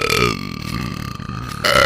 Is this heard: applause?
no